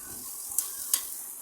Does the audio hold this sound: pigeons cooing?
no